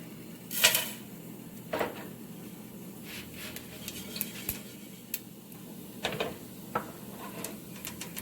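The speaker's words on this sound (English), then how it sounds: "So we're going to throw all the dry khada masalas here." Whole dry khada masala spices go into a broad non-stick pan, making a few light clinks and scattered rattles of spices hitting the surface, then soft shuffling and handling noises. The sound is faint and near, with quiet gaps between the sounds.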